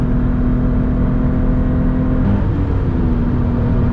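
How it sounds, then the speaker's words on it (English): A Subaru BRZ engine runs steadily while warming up at the Phillip Island race track, a loud continuous low hum with a slight pitch shift midway and no voices. "Just getting the car warmed up for now,"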